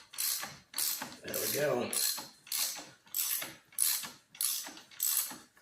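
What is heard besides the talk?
ratchet tightening bolts on a motorcycle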